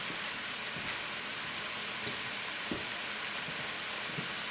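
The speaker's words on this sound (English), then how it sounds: "let it simmer." A covered pot of red and Great Northern beans with ham and turkey simmering, giving a steady hissing bubble with a few soft pops and knocks, close and without talk.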